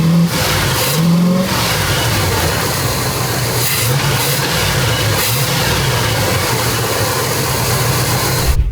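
A car engine with a new exhaust runs continuously after a timing adjustment, loud and close, with a steady rough rumble and slight revving throughout.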